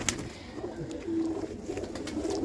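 Fancier's pigeons coo in low, soft, throaty bursts at close range, repeating over a couple of seconds against light background noise.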